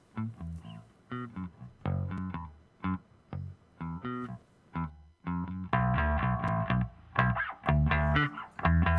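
A bass synth line is heavily distorted by a VST distortion plug-in, with gritty, buzzing notes played in short bursts, growing thicker and louder toward the end.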